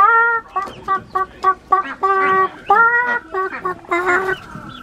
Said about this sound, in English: This chicken is laying an egg right now, guys.